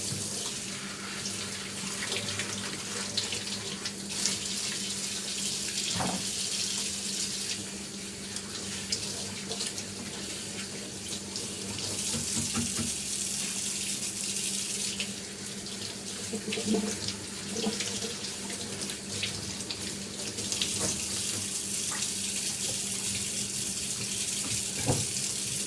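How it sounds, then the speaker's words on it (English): Tap water runs steadily from a faucet into a sink as leafy greens are rinsed under it, a continuous close splashing hiss with small shifts in the flow and no talking. "So with the greens, just wash them off."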